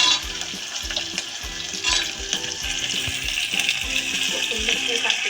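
Peanuts fry in a pan for khichdi with a bright, continuous sizzle and crackle up close, over rhythmic background music.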